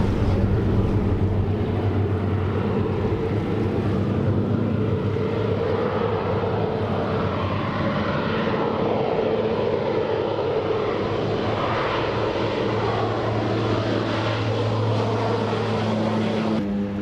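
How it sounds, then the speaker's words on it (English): Seaplane approaching to land over Vancouver harbour, a continuous droning propeller engine roar that stays loud and steady throughout, mixed with wind rush. "Here is a seaplane about to land."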